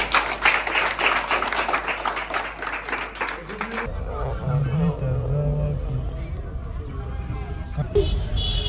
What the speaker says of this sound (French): On acclame pour nous-mêmes.